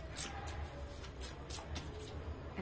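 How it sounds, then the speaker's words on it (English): Tarot cards being shuffled by hand in a quiet room, a soft continuous riffling and shuffling with faint repeated slaps of card edges, close to the microphone and fairly quiet. "Okay, let's still shuffle."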